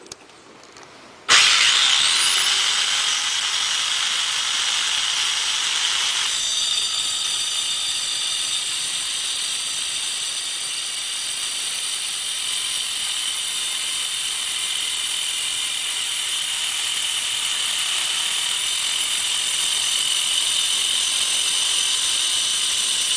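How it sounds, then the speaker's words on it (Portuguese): A DWT MC500 multi-cut saw starts and cuts 1/4 inch steel angle wetted with cutting oil, a sudden loud high-pitched whine and grinding scream holding steady close by with slight shifts in tone. "Cortando o aço cantoneira de 1/4, para isso também umedecemos o perfil com óleo de corte."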